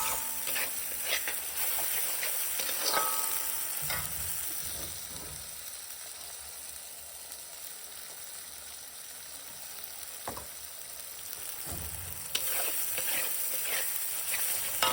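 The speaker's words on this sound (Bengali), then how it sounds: "মশলাটা প্রায় ভাজা ভাজা হয়ে এসেছে, আর একটু নেড়ে চেড়ে ভালো করে কষিয়ে নেব।" Spice masala for a Bengali mutton kosha fries in a pan while being stirred, giving a steady close sizzle broken by occasional scraping stir strokes, with no talking.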